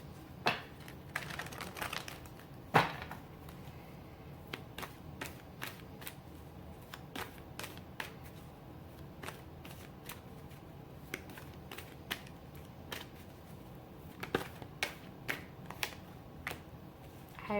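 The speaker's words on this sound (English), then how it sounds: "One more shuffle." Crisp, irregular flicks and riffles of tarot cards being shuffled, quiet and close, with small clusters of taps spread over a long stretch.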